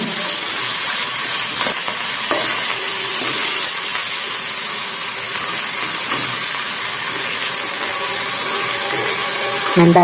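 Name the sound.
stirring fenugreek leaves frying in a pan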